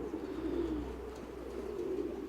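A female pigeon coos softly in a loft, two low, gentle rolling calls, faint and close.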